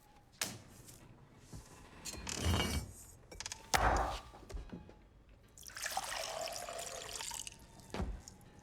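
Water pours into a glass and splashes in short bursts, with a longer steady stream toward the end, interspersed with clinks and handling noises.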